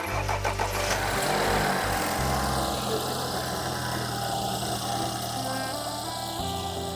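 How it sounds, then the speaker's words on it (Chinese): A car engine that stalled after driving through water is cranked and starts, catching with a rough burst of revs before settling into a steady idle, heard close by. "现在我们就开始正式启动一下，来启动。"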